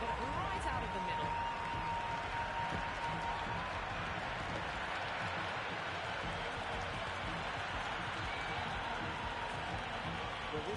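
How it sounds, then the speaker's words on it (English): A stadium crowd at an India versus Pakistan cricket match keeps up a continuous, fairly distant roar and murmur for the whole stretch, steady and without any sharp peaks. "the crowd have joined the party. It's pretty noisy at the ground."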